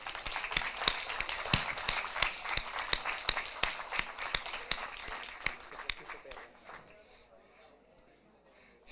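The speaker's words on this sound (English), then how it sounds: "Clapping is in order again." Applause at a regional student assembly in Sassari, with rhythmic, evenly spaced claps cutting through a bed of clapping, then thinning and fading out over the last few seconds.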